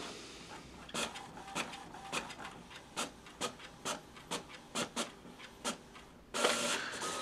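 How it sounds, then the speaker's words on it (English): A printer connected to a Samsung Galaxy S3 phone runs through a job with a steady series of short mechanical clicks and whirs, then a longer, louder feed noise at the end, close by. "The printer's now accepted that is going to print that document."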